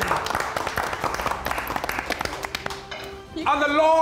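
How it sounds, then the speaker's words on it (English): Audience applause at an awards show, scattered clapping under a host's talk that fades, then a burst of music rises at the end. "Round of applause today"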